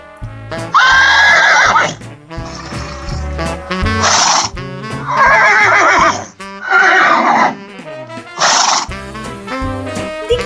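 A horse neighs and whinnies loudly in repeated long, shrill calls with short pauses, close and clear, alone without talk, as part of an animal-sounds listening game.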